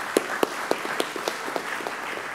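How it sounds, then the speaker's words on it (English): An audience at an interfaith conference gives a sparse round of applause, with a few sharp individual claps standing out over a soft, steady patter. "we give her a round of applause"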